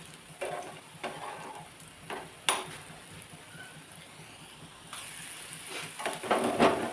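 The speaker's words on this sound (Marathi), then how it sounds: "अजून एक दोन तीन मिनिट आपण ह्याला तेलामध्येच फ्राय करूया" Bitter gourd pieces frying in hot oil in a pan, a soft steady sizzle broken by several sharp stirring scrapes and clinks, faint and close with no talking.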